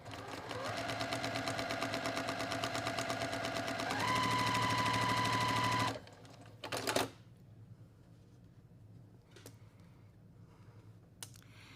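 A home sewing machine with an open toe foot stitches a quilt block along a marked line, a steady rapid mechanical whir with a faint tonal hum that speeds up, then stops abruptly, followed by quiet handling clicks.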